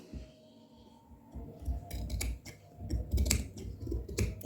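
Scissors snipping through salwar fabric during tailoring, several crisp cuts in a quick irregular run, close and fairly loud, with no talking.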